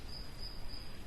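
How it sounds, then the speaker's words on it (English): A single cricket chirps in a continuous, high, thin trill, faint and distant against a quiet background hush. "We can hear a cricket."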